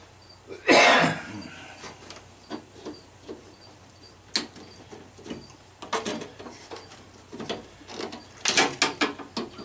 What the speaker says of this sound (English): I'm getting a little cough from all those weather changes around here.